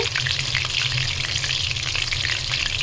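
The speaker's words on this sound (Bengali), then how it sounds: "দেখুন রেডি হয়ে গেছে চিকেন ফ্রাই।" Chicken fries in a pan with a loud, steady, close sizzle and crackle that never lets up, with no voices.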